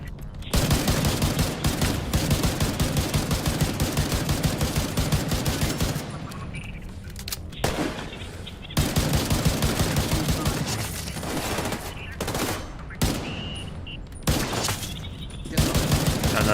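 Sustained rapid gunfire in Tom Clancy's The Division 2, with dense bursts of automatic fire broken by short pauses and single shots, loud and close throughout.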